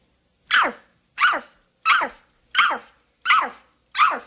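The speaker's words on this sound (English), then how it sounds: "Bark like a dog." A big dog barks six times in a slow, evenly spaced rhythm, each bark loud and close with a clean break of silence between.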